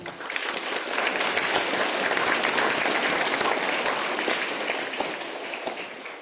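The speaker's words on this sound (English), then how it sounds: "Let us give a round of applause for them" Students at a Catholic school morning assembly give a round of applause to a class 5 group, a broad, even wash of many hands clapping that swells, holds steady for several seconds, then fades out.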